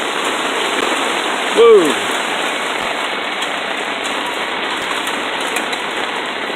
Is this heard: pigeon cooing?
no